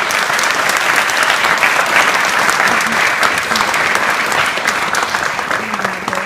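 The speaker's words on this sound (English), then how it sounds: "One more round of applause." Loud, dense applause from a keynote audience runs unbroken and even for several seconds, a full crowd clapping close by with scattered faint voices beneath.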